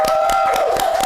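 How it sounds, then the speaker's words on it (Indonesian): A small group claps hands in an Indonesian volunteer gathering for disaster preparedness, with several brief, uneven bursts heard close and loud over a steady tone. "Wah, boleh dong tepuk tangan buat teman-teman."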